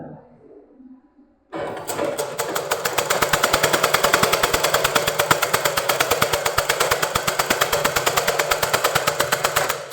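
Sewing machine stitching the sleeve of a readymade churidar, starting after a short quiet stretch with a faint voice, then running as a loud, steady, rapid needle rhythm close by until the end.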